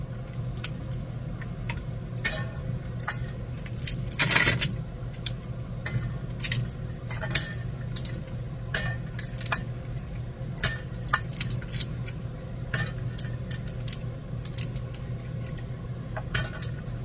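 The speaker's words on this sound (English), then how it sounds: "Now I'm just trying to get the dishes done." Dishes are washed in an RV sink with soft clinks and clatters of plates and utensils, scattered taps and scrapes over a steady low hum and running water.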